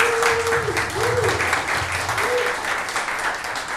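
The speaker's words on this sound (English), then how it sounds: "one more round of applause for Neil" An audience applauds a speaker at a metaverse browser live stream, a steady wash of clapping throughout with a tonal hum sliding in the background.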